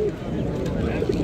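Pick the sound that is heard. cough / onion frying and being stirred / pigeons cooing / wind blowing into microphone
pigeons cooing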